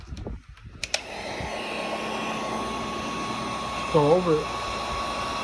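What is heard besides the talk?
heat gun blowing on bottle label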